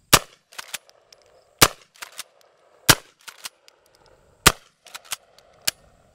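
A KelTec KSG shotgun fires Aguila mini shells outdoors, with sharp loud reports spaced irregularly, some in quick pairs, each followed by a brief ringing echo.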